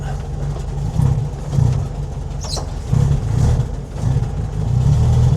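A 1965 VW Beetle engine running close by, with the car engaging gears. It makes a steady, loud low drone that rises and falls as it revs, with a brief higher scrape in the middle.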